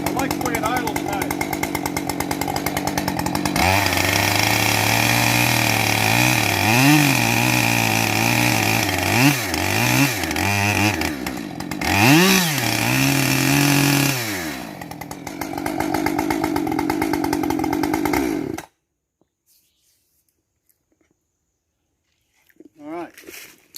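A chainsaw engine runs close by, idling with a steady rumble and revving up and down several times before shutting off into near silence.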